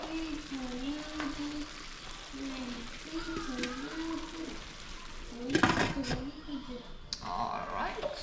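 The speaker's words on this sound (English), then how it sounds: "we're just gonna make this simmer a little" Cow foot and beans simmer in a cooking pot, giving a steady low sizzle and bubbling. A person talks over it, and a louder burst of stirring or clatter comes partway through.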